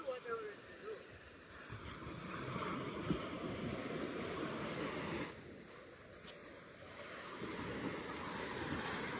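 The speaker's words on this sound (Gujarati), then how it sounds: "તો મહેશ જાય છે હવે દરિયાની અંદર ધીમે ધીમે" Continuous roar of Arabian Sea waves washing onto the shore near Mahuva, Gujarat, with wind buffeting the microphone, the surge briefly easing before rising again.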